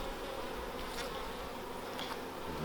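Honey bees buzz steadily around an opened hive frame holding capped honey and nectar, a close, continuous drone with no talk over it.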